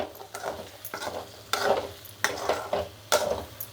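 Curry gets stirred in a pan with a metal spoon, giving repeated close scraping strokes and light clanks over a soft sizzle, with no talking.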